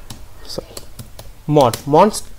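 A few quick clicks from a computer keyboard as an nmcli command is typed in a Linux terminal, followed by a person speaking over them.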